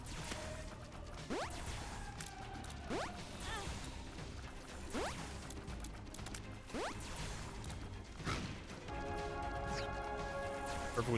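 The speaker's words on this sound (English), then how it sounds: "Perfectly timed bomb there to take care of the Angel Feti before they could do anything" Explosions from bombs in The Binding of Isaac: Repentance, a string of sharp bursts and whooshing sweeps recurring every couple of seconds over a steady bed of game music and effects.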